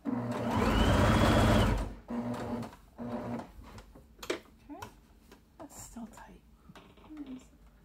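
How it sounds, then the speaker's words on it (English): A sewing machine runs a straight stitch around fabric for reusable toilet paper, one loud steady buzzing burst lasting about two seconds, followed by shorter quieter stitching bursts and handling clicks. "you're going to sew all the way around using a straight stitch"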